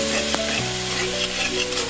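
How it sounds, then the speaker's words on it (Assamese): Gravy spices fry, sizzling and crackling in a hot pan with a little water added, with a brief scrape of stirring and a low steady hum behind it. "অকণমান পানী দি দিছোঁ সুন্দৰভাৱে ভাজি লৈছোঁ"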